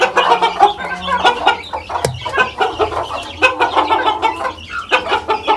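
Chickens and chicks on a farm cluck in quick, repeated bursts, fairly close, with layered calls overlapping throughout and no human speech.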